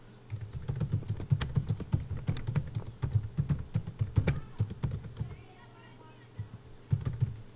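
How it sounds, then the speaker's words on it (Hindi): Close, steady typing on a computer keyboard while a sentence is entered in a word processor, a quick run of key taps with a short pause near the end before more keystrokes follow. "चलो इसको गलत टाइप करते हैं"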